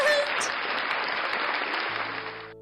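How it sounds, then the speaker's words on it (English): Applause rings out for a few seconds during a VTuber livestream, a dense burst of clapping that cuts off abruptly before a brief tonal sound. "Give a round of applause"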